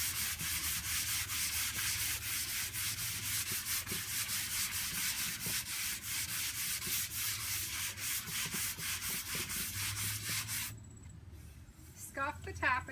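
Steady rhythmic scratchy strokes of a fine sanding block scuffing a painted surface, continuous and close, stopping near the end where a voice briefly speaks.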